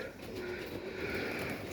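Pigeons in a dovecote on a drizzly rainy day, giving soft low cooing calls close by over a steady background hiss.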